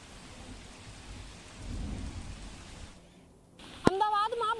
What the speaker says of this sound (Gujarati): અમદાવાદમાં બપોર થતાની સાથે જ વરસાદની શરૂઆત થઈ ચૂકી છે